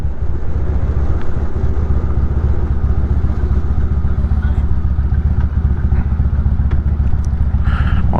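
A Harley-Davidson Road King project motorcycle is ridden with its engine rumbling loud and steady nearby, a continuous throbbing drone with wind noise throughout.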